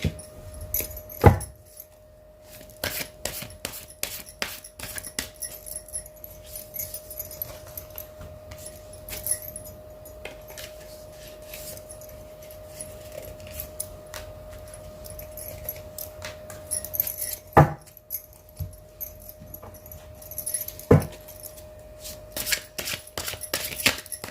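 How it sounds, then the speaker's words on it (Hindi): Tarot cards shuffled and drawn by hand: a long run of close, crisp flicks, slaps and rustles, with a few louder snaps at irregular intervals and a faint steady hum beneath. "इसी के साथ हम पहले कार्ड्स निकाल लेते फटाफट से।"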